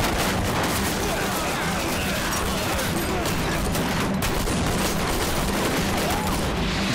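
Dense, continuous gunfire from rifles and artillery in a Chinese war film set during the anti-Japanese war, loud and unbroken volleys of shots and blasts throughout.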